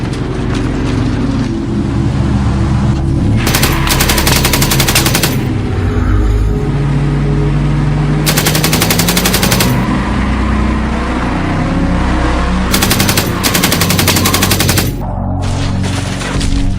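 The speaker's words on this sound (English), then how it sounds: "As gunfire erupts" Movie gunfire as machine guns erupt in the action film A Working Man, loud sustained bursts of rapid automatic shots in several volleys mixed with engine roar and dramatic score.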